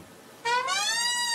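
A cat lets out one clear, drawn-out meow after a brief quiet moment, the cry rising and then holding steady, close and loud with no talking over it.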